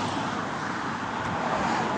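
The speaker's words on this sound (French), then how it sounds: "on entend bien les voitures parce que là on traverse un pont" Car traffic crosses a bridge near the river mouth on the Portuguese coastal Camino between Vila do Conde and Marinhas, making a continuous close roadway roar with steady tire hiss and no pauses.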